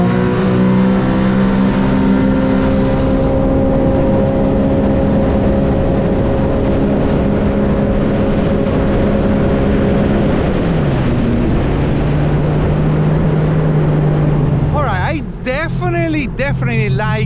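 A 2021 Sea-Doo RXTX Stage 1 jet ski fitted with a Solas prop roars loudly and close, its engine note holding steady and then dropping in pitch as it shifts, with wind and water rush near the end.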